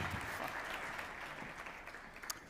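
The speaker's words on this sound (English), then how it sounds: "Another round of applause," A conference audience applauds, a soft, steady patter of many hands that continues throughout at a fairly distant, quiet level.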